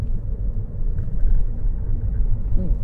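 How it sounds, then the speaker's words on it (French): A Lotus Evora 400 sports car passes outside while riding in a moving car, its engine a low, steady rumble that swells slightly near the end, blended with cabin road noise. "Oh, Lotus Evora 400."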